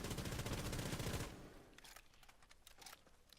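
R4C rifle in the Rainbow Six Siege video game fires a rapid burst into a wall, dense and loud at first, then scattered impact crackles and debris ticks as the firing stops.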